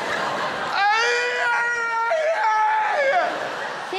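An audience member on stage at a stand-up comedy show lets out long, high, wavering screams, loud and close, with short breaks between them.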